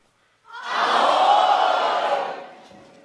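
A concert audience shouts one big collective hello in unison, a loud roaring group yell that swells in, holds for about two seconds and then fades.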